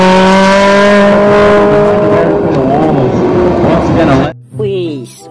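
A toy race car makes an electronic racing sound, a loud, close revving engine whine with a tire squeal that carries for about four seconds, then cuts off abruptly before a voice speaks.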